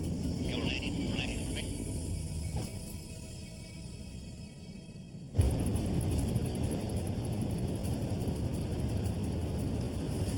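A small airplane landing near an Alaskan village, its engine a steady droning rumble that shifts abruptly to a louder, broader roar midway through, with no talk.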